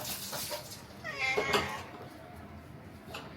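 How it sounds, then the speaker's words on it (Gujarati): A house cat in a home kitchen gives a couple of meows, the clearest a drawn-out call in the middle, fairly close and alone over quiet room noise. "અહીંયા બિલાડી આવી ગઈ છે"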